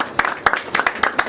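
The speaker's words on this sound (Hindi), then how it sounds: "कुछ लोगों की तालियां थोड़ी सी आई और रह गई" Light, scattered applause from a small audience at a Hindi poetry reading: a handful of separate claps spaced out over a second or so, close and fairly clear, with no voices.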